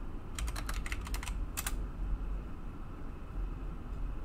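Computer keyboard typing during a Canva design session, a quick run of about nine close crisp keystrokes in the first two seconds, then a quiet hum with no talking.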